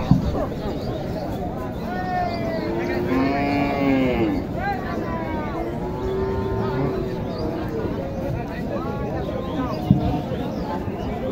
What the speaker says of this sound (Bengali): দেখেন বিশাল দুধের একটি শাহিওয়াল।